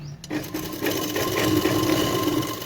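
A sewing machine stitches blouse fabric in a steady, fast mechanical whir that runs continuously after a brief start, close and loud, with no talking.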